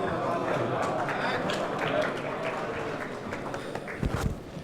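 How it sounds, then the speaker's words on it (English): Conference audience applause, a steady wash of many hands clapping that fills the room at moderate level throughout, with a voice faintly underneath. "If you'd like to continue a round of applause"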